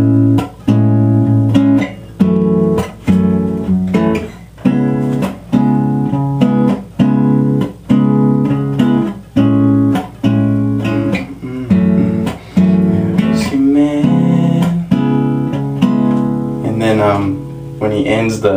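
Acoustic guitar strumming the three-chord progression of an R&B ballad, steady rhythmic strums with chord changes, played close and fairly loud without talk.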